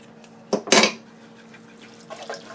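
Gravy is stirred in a metal pan, giving a couple of loud clanks of utensil against cookware followed by softer scraping and clinks nearby, with no one speaking.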